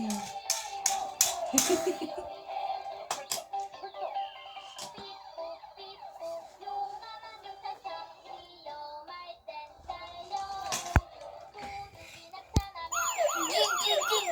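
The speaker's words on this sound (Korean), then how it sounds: "맞아 경찰차야" A toy police car siren plays a rising and falling wail amid other toy vehicle sounds and tones during children's play, fairly close and moderately loud, with brief clicks and knocks between the siren passages.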